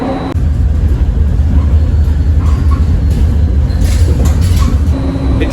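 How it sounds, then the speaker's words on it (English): Steady low rumble of a new Caltrain electric gallery-car commuter train getting under way, with a constant loud low-frequency drone and faint higher whines rising in the background. "I will demonstrate a clip of the new gallery car trains starting about now."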